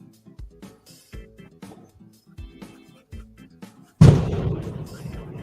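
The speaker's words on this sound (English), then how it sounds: "These explosions in my neighborhood all the damn time." Soft tapping and handling noises, then one loud, sudden boom that rumbles and fades over the final second and a half.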